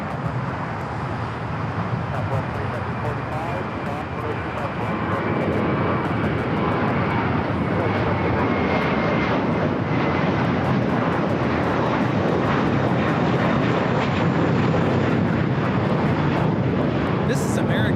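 An American Airlines A321 taking off at LAX, engine roar swelling and growing louder as it powers down the runway, sustained and near, with voices talking faintly over the rising noise.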